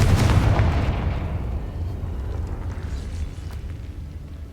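A fiery Confringo spell explosion in Hogwarts Legacy bursts loud and close with a deep booming impact, then rolls into a long rumbling decay that fades gradually over several seconds.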